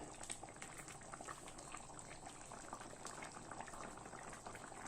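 Potatoes and broccoli boiling in a covered pot, a soft continuous bubbling and simmer hiss, steady and fairly quiet with no voices.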